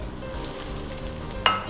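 Garlic tossed into a hot pan gives a loud, dense sizzle and crackle that carries on steadily, ending with a sharp metallic clink of cookware.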